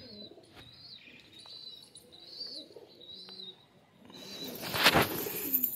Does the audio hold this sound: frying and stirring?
no